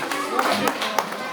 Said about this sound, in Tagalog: Palakpak daw ang grade 6B na parents.